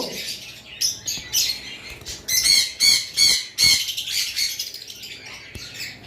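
Lovebirds kept for sale chirp in bursts of shrill, rapid tweets and chatter, close by and loud, alternating with brief quieter gaps.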